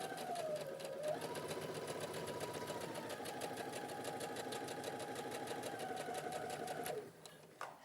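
A sewing machine stitches a dart after a brief back stitch, running at a steady, rapid, even pace close by for about seven seconds before stopping.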